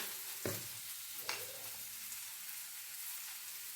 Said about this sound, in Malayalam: ഇതെല്ലാം കൂടെ നമുക്ക് നന്നായിട്ട് വഴറ്റി എടുക്കണം